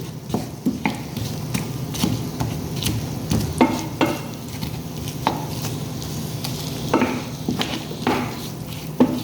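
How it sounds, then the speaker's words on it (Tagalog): Garlic and onion being stirred in a hot pan for chicken adobo: a steady sizzle with repeated clinks and scrapes of a utensil against the pan, close and moderately loud, with no talking. "isabay na natin ang ating bawang at saka sibuyas. At haluin."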